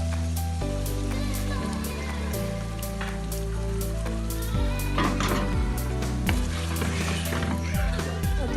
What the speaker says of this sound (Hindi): अब मैं इसमें दही और ये करीम मिक्स कर रही हूँ।